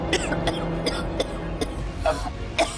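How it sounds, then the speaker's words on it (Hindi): Several coughs, close and fairly loud, come in short bursts spread across the moment, with a low background rumble underneath. "माँ को खांसी आ गई"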